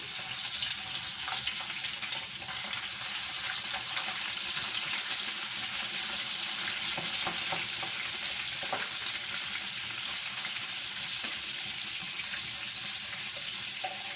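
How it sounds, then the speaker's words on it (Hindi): Ginger-garlic paste sizzles and sautés steadily in hot oil, continuous and close, with occasional soft clicks of stirring; no voices. "अब इसमें जो है आपने 1 चम्मच भर के जो है अदरक और लहसुन का पेस्ट शामिल करना है।"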